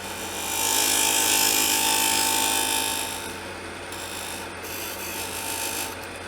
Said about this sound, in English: we're going to come back in with the skew right here and we're just going to push it straight in